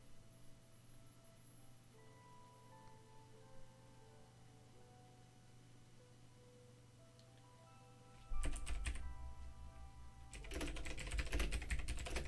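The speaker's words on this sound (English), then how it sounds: "Just typing in chat" Keyboard typing into a chat starts partway through, a quick close clatter of keystrokes over a faint hum, with a second longer burst near the end.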